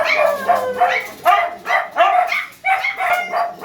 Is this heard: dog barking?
yes